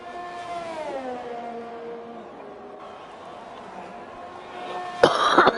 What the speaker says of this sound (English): you'll have to excuse my coughing